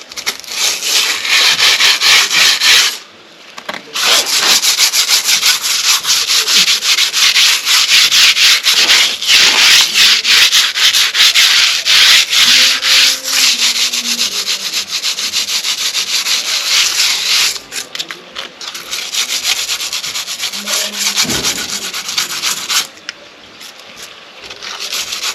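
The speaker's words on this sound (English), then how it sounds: "All I'm going to do is give it a little sand, because it's not fully dry yet." Sanding a freshly repaired concrete step that is not yet fully dry, by hand: long runs of harsh, close scratchy rubbing with brief pauses, and a few faint tones in the background.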